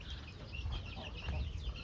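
Chickens cluck and murmur steadily in a coop, with several birds chattering close by over low rumbling background noise and a voice faintly mixed in.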